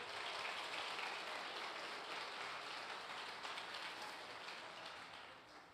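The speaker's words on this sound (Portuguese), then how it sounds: "Aplauda o Senhor nessa noite." A church congregation at a Sunday worship service claps for the Lord, a faint, distant, hissing wash of applause that stays even and slowly thins.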